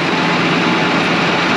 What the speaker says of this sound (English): I can tell the engine sounds a little smoother